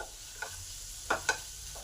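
Spices and green peas sautéing in a pan for a vegetarian cabbage dish, a soft steady sizzle with a few quick scraping stir strokes, close but fairly quiet.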